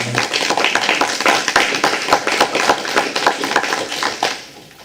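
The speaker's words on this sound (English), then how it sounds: "Can we give them a round of applause?" A small audience at a county school district board meeting claps for two honored ladies, a close, fairly loud run of individual hand claps with distinct sharp strikes that stays steady and then tapers off at the end.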